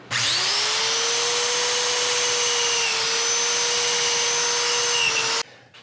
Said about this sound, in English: And the sanding is all done